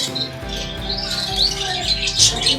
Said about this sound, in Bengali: আর আমাদের গোল্ডিয়ানের 2টো বাচ্চা এখানে বড় হয়ে গেছে